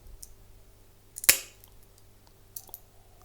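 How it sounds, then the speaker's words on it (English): Double-wheeled mosaic nippers snapping a smalti glass tile in half, one sharp close crack, then a faint click shortly after in a quiet room. "when I'm using the double wheeled nippers. I just use these, cut them in half"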